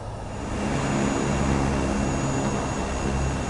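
Beechcraft aircraft engines in Microsoft Flight Simulator 2024, a loud, steady droning engine hum with a buzzy, lawnmower-like tone, swelling after the first half second and holding constant, with no talk.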